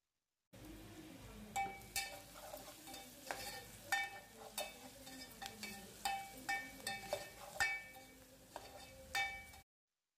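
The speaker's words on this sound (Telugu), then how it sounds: "అల్లం వెల్లుల్లి, పసుపు వేసుకొని కలుపుకోవాలి" Ginger, garlic and turmeric stirred in a pan, a steady low sizzle broken by regular metallic spoon scrapes and clinks against the pan, close and alone.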